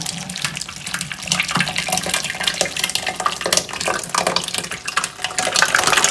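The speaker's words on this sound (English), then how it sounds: "Now we're going to pour it into our mold." Thick lavender cold-process soap batter pours from a pot into a mold in a steady, continuous stream, a close, wet rushing flow with faint splashy texture and no voices.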